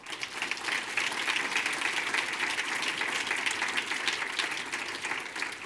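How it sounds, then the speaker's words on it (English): Applause from an audience at an evening rankings launch event honouring companies in the room, a dense steady clapping that swells within the first second and holds at an even level throughout, with no talk over it. "a round of applause, please,"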